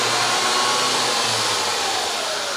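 An electric 4WD winch, run by remote control, whirs with a steady, loud motor drone that holds evenly for a couple of seconds.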